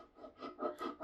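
A tool scrapes cured cold wax paint off a painting, several short soft rasping strokes in quick succession, close and fairly quiet.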